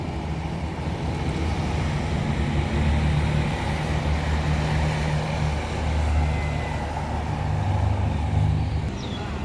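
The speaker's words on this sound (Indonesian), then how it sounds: "Dan ini unit MPM yang akan melanjutkan perjalanan" An MPM bus departs the Bare Solo terminal with a steady low engine rumble and road noise that swells and eases, rather close, with general traffic ambience and no talking.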